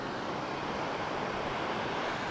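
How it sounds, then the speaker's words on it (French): Small, calm ocean waves on the beach at Mancora make a steady, soft wash of surf with some wind mixed in, continuous throughout with no voices. "vous entendez quand même certainement les vagues, mais c'est normal, il y a des vagues quand même."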